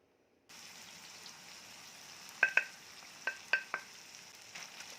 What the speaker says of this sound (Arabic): قلبي بقى لحد ما التوابل بتاعتك تتوزع على اللحمه كلها وتاخد تحميصه مع اللحمه